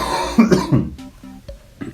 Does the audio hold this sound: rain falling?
no